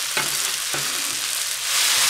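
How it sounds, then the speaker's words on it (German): Chopped fennel greens go into a pan of frying seitan mince, giving a steady loud sizzle with a couple of short stirring scrapes and the frying swelling slightly toward the end. "Und ganz zum Schluss nochmal mit an die Pfanne geben."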